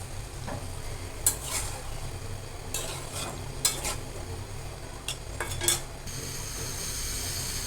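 Potatoes being stirred and turned with spices in a pan for an egg-and-potato curry, giving scraping and clinking strokes of a utensil against the pan over a steady low sizzle, with several sharper knocks at irregular intervals.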